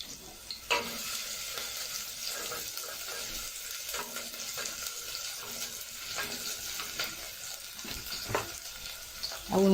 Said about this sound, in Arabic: على الزيت اهو ننزل بالبصلايه